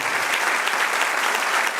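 A church congregation claps together in a brief, sustained round of applause, uniform and full with no pause.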